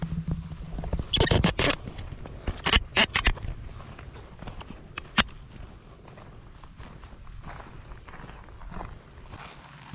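Footsteps crunching through leaves and brush in a creek bottom on a Georgia wildlife management area after hurricane rain, a burst of close steps early on, then scattered quieter steps over a low outdoor background.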